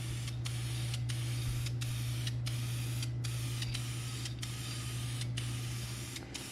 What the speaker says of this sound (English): we're fixing to start throwing some paint to it, some green